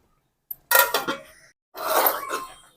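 A lid clatters onto a pot of gongura and prawns being stirred in a village kitchen, with a quick metallic tap, a short burst of clinks and scraping, then a second longer rattle, all close and without speech.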